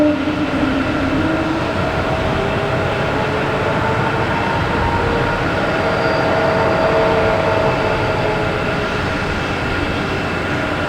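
A British Airways jet passes by at Boston Logan Airport, a loud continuous engine roar with a broad rumbling body and steady whining tones, sustained for the whole stretch without talk.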